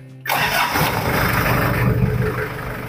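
A 1996 Daihatsu Taft with a conventional, non-common-rail diesel engine cranks and fires abruptly after a moment of quiet, then settles straight into a loud, steady rough clatter up close.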